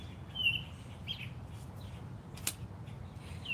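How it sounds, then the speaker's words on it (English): Birds chirping outdoors: scattered high, thin chirps and tweets come and go over a steady low background rumble, fairly faint and a little distant. "Do y'all hear all of these birds?"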